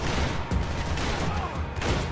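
Gunfire during a rooftop shootout in Max Payne 3: steady rattling shots in a busy firefight, with a couple of sharper, louder reports standing out against the din.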